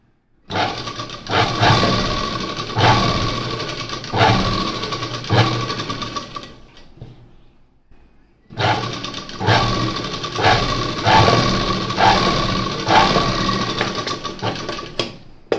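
A sewing machine stitches a blouse in two long, loud, steady runs of rapid mechanical clatter with a brief pause between, close up and with no talking.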